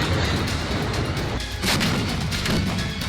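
Multiple launch rocket system fire and explosions in the war in Ukraine, a loud, dense barrage of booming rumble that keeps going without a break, with a short dip in the middle before it swells again.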